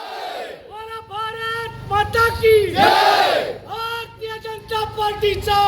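Party workers cheer and chant outside a BJP office after a municipal council election win in Ratnagiri district; loud, overlapping crowd voices rise and fall in bursts throughout.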